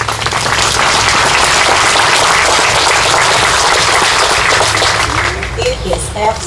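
An audience at a Memorial Day event in Manchester, Tennessee applauds the mayors of Manchester and Coffee County with steady, loud clapping that lasts several seconds, with a few voices mixed in.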